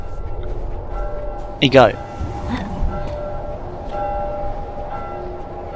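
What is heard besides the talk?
church bell ringing in the video game The Last of Us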